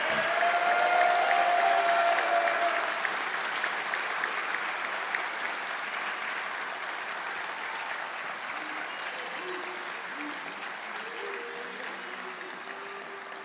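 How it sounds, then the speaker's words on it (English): Sustained applause from a large audience at a recruit class graduation ceremony, a dense steady clapping wash that carries through the whole stretch and tapers slightly toward the end, with faint voices underneath. "Let's give them another round of applause."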